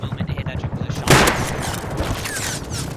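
In the survival game Rust, a player fires at an attack helicopter: rapid bursts of gunfire erupt into a sharp blast partway through and continue over a voice talking.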